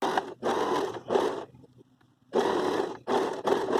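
Sewing machine backstitching at a fabric corner: loud, close bursts of steady motor whirring and needle chatter, stopping for about a second before resuming in several more short runs.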